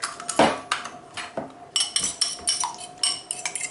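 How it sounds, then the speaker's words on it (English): Eggs being beaten in a bowl for pancakes, quick metallic clinks and scrapes of a utensil against the bowl in irregular bursts, close and fairly loud. "we're just going to crack these eggs and beat them in this bowl"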